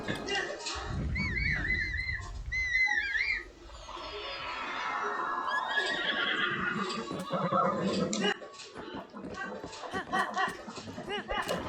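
A horse in the video game Zelda: Breath of the Wild whinnies in a couple of rising, wavering calls near the start, then game sounds carry on while people talk over them throughout.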